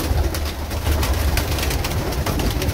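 Pigeons coo softly and repeatedly, their low murmuring calls overlapping close by with no one speaking.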